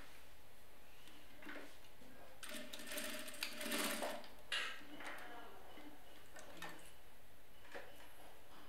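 Sewing machine stitching dress fabric for a couture off-the-shoulder party gown, soft ticking stitch bursts at moderate distance amid quiet background, with faint handling noises and no talk.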